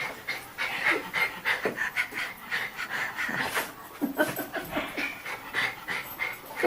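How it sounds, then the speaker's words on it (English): Close, rapid panting from a dog that has just wandered into a room during a home interview, rhythmic and breathy with faint whimpering, heard up near the microphone. "Oh boy, here comes your dog."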